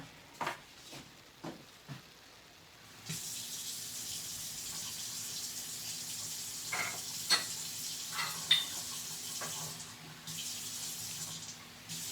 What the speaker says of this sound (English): you want to add a little bit of water.